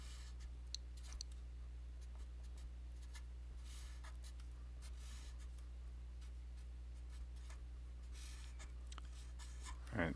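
A pen scratches across a board while drawing vectors for a matrix basis, faint intermittent strokes and small clicks over a low steady hum, with no talking.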